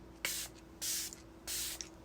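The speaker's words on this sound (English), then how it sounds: "now I'm going to do just that and set my face with the Item Beauty One Hit Setting Spray" Three short, close hissing bursts of facial setting spray, evenly spaced, each a soft fine mist.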